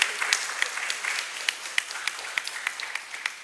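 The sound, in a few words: audience applause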